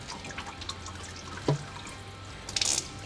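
Transmission fluid drains from the pan of a Nissan Patrol transmission, a soft steady trickle with a few drips and a brief clink near the middle, then a louder splash of fluid toward the end.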